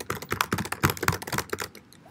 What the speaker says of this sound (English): Let's say if I type something.